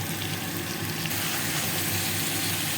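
Ground spices, including ginger, cumin powder, chilli powder, turmeric, salt and sugar, frying in a pan: a dense, steady hiss of sizzling that stays loud and close throughout.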